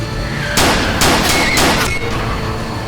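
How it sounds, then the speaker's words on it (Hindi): Several loud, sharp gunshots fired during a car chase, four cracks in quick succession, close and alone with no talk. "तुम पे गोली चली है क्या?"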